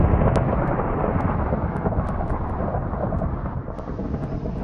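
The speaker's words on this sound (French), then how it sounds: "ça y est, l'orage est passé" Thunder during a thunderstorm rumbles as a heavy, continuous low roll that slowly fades, with faint crackles over the top.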